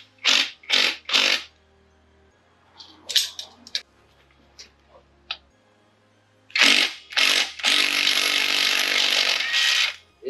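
A pneumatic impact wrench hammers at a conical axle nut on a 2002 GMC truck during a rear axle flip kit install, loud close bursts, several short ones, then a longer run, with quiet clinks between.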